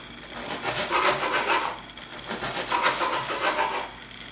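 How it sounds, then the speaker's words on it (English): A serrated bread knife saws through a loaf in half-inch slices, two bursts of rhythmic rasping strokes, close and fairly loud, with a short pause between them. "I'm going to do 1/2-inch slices"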